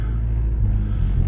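A Ford Fiesta with seized-up brakes is driven slowly around a yard, its engine giving a close, steady low rumble with a faint whir.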